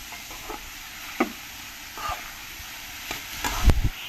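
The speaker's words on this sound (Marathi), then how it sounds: "याला छान परतवून घेऊया।" Chopped mushrooms with onion sauté quietly in a pan for soup, a soft frying hiss broken by a few scattered scrapes and taps of a spoon, the loudest knocks near the end.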